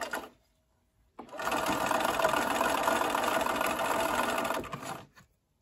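A sewing machine stitches a quilt seam on a LeMoyne Star block. After a short pause it starts up and runs at a constant, fast buzzing whir for about four seconds, then stops abruptly. It is close and has no talk over it.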